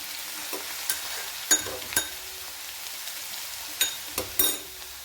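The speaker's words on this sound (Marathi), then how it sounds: "लसणाला पण छान असं आपण परतून घेणार आहोत" Coarsely crushed garlic sautés in a pan for palak rasa bhaji, a faint, close sizzle punctuated by several sharp scraping stirs of a spatula.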